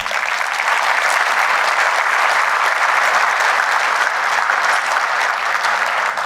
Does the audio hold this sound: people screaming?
no